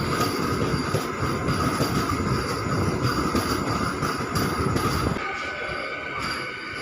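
A train rolls on rails departing Peddapalli railway station, a steady loud rumble with rhythmic wheel clatter and a faint high squeal, easing slightly near the end.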